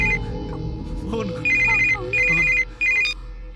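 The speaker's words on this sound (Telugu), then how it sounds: "ఫోన్." A telephone rings in repeated bursty electronic trills, loud and close, following a short stretch of background noise and murmur.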